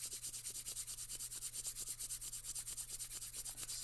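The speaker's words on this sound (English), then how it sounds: "bring your palms together, rub them vigorously" Palms rubbed together vigorously, a fast steady rhythm of dry, hissing friction strokes, close and continuous with no talking.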